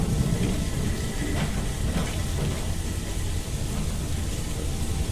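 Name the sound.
rain at night in the video game Fallout London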